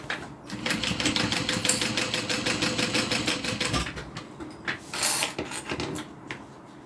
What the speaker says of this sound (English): I'm going to sew down the other one.